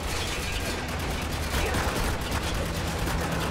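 Dense continuous gunfire from a co-op battle in the video game Spec Ops: The Line, loud rapid shots layered into a constant roar with faint talk underneath.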